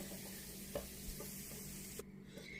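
Chopped cashews roast in ghee in a kadai, giving a steady soft sizzle with occasional scraping stir clicks throughout, close and even in level.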